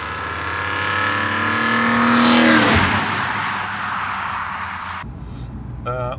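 A BMW E86 Z4 M Coupé with 343 hp and an Eventuri intake accelerates hard, its engine note climbing through the revs to a loud peak, then easing off before a short rev blip at the end.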